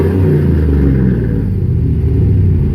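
A 2003 Dodge Ram 2500 fitted with a Flowmaster Series 50 exhaust revs up close by with a loud, deep exhaust rumble that rises and holds steady for the whole moment, with no voices.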